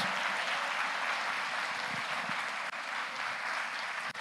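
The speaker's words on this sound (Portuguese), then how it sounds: "Vamos dar uma salva de palmas para o Senhor." Church congregation claps together in a sustained, even burst of applause, dense and continuous from start to finish with no voices standing out.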